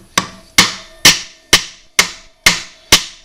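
A hammer lightly tapping a nut on a Honda rear wheel: seven sharp metallic knocks at an even, unhurried pace, close and loud, each with a short ringing decay.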